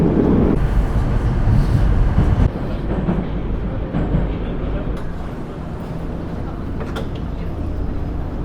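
A crowded Moscow metro train runs with a loud, continuous rumbling roar and rattling of the cars, the noise easing slightly partway through, with faint voices of passengers underneath.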